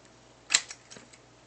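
Plastic case of a Game Boy Pocket pried open: one sharp snapping crack up close, followed by a couple of softer clicks as the shell separates.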